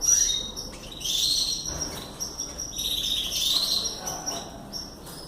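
Pet canaries chirp and trill throughout, bright high-pitched song phrases repeating in bursts from a nearby cage, with no voices present.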